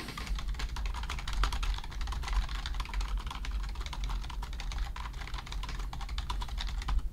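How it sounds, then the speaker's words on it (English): Rapid, continuous clicking of keys on a budget mechanical gaming keyboard, fast and steady, close to the microphone with a low hum underneath. "I'm gonna try typing something out"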